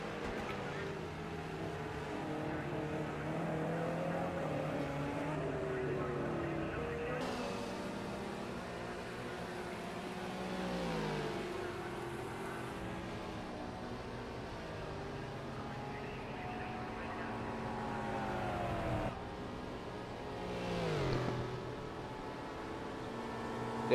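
GT3 race car engines in a sim racing championship, several engines droning and rising in pitch through gear changes, with passing cars sweeping by, moderately quiet, under faint talk.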